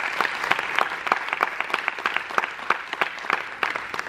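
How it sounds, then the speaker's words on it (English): Conference audience applauding together in a hall, a steady wash of many hands clapping with dense, rapid claps throughout, fairly loud and without talk. "So round of applause for Manuel."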